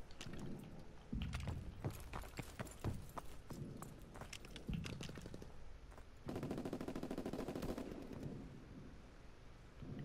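Gunfire rattles in a World War II video game: bursts of rapid machine-gun fire and single shots in uneven clusters, close and sharp, with long automatic strings later on.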